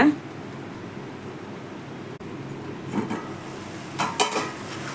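A spoon scrapes and clatters through brinjal thokku in a frying pan, a few close stirring knocks over a low simmering hiss, with faint talk in the background.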